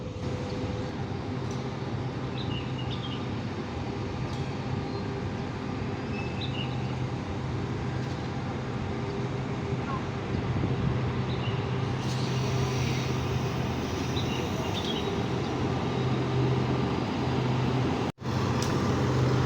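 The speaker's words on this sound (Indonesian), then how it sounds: "Rangkaiannya udah datang, kita langsung masuk aja ya ke rangkaian KRD komuter lain Jenggala" KRD diesel commuter train on the Jenggala line pulling into a station, a continuous low engine rumble and rolling noise at steady volume with faint higher squeals, heard without talk.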